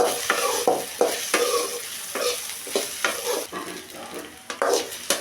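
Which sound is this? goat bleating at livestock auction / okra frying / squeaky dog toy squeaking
okra frying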